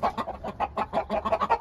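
Aseel hens cluck close by in quick, repeated bursts, a steady rapid patter of short clucks lasting under two seconds.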